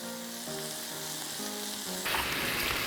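Raw pork sizzles steadily in a hot pan for jeyuk bokkeum, a continuous close frying hiss that grows louder and brighter near the end, with no talking.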